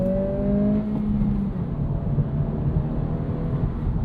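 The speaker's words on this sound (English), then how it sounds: "You guys can hear this artificial noise that the Integra makes." Steady engine drone from a 2026 Acura Integra A-Spec turbo with its artificial sport-mode sound, a humming whir that holds level and then eases slightly, heard from inside the car with no talking.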